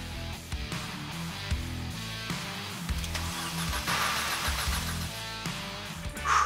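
A Mercedes SLK's engine cranks and catches in a starting attempt after its fuel tank is drained, a mid-pitched car engine turning over, rising into a brief rev and settling, heard fairly close amid some background noise.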